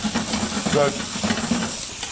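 Bacon and asparagus frying in a pan, with steady sizzle and steamy hiss plus a few brief stirring scrapes, close and continuous.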